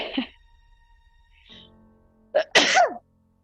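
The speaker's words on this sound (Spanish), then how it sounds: "Voy a estornudar, espera." A single loud, close human sneeze breaks a quiet pause in a medical interview, a short sharp intake followed by an explosive burst.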